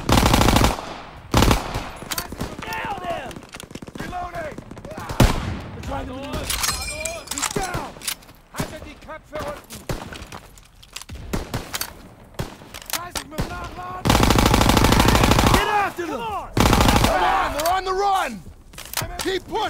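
Call of Duty: WW2 gameplay brings bursts of rapid automatic gunfire alternating with single shots and quieter gaps, mixed with game effects and shouted voices.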